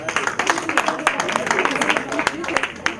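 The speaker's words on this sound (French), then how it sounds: "on applaudit" Children clapping at a thanksgiving day gathering for orphans in Gabon, a quick scattered patter of hands in a room, with voices and chatter mixed in.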